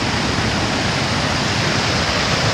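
Tioronda Falls on Fishkill Creek in Beacon, Hudson Valley, pours as a steady, dense roar of falling water that stays even and unbroken throughout, with no voices.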